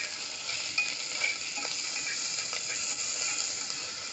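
Onion, green chili and ginger-garlic paste stirred in a pan for pulao, with a soft continuous sizzle and faint scraping spoon clicks throughout, no voices.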